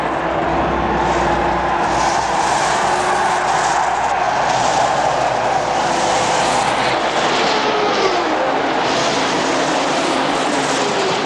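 Indy 500 race cars roar off at the start of the race in a dense, loud, continuous engine drone, with the whine of many cars passing layered together throughout.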